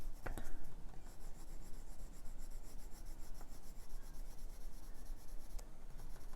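Caran d'Ache colored pencil smoothing and blending blue and Payne's gray on coloring-book paper, a steady soft scratchy rubbing that continues close by for several seconds with a couple of faint taps.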